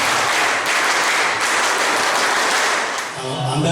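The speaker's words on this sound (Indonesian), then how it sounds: "Nanti secara tepuk pramuka." A crowd of Pramuka scouts at a recruitment gathering in Aceh claps together in a dense, loud burst that runs steadily for the whole stretch, with voices mixed faintly underneath.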